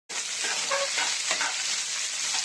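Chopped onion hitting hot oil for a brinjal gravy, a steady loud sizzle and frying hiss with soft stirring scrapes in the pan, continuous for the whole stretch with no talking.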